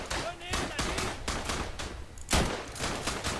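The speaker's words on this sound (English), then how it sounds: "freaking mortar just struck me" Mortar shell striking the player in the World War I shooter Verdun, a loud burst of explosive impact and crackling gunfire around it, with rapid shots echoing amid a busy battlefield din.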